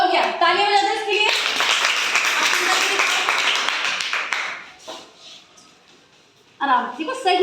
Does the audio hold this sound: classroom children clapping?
yes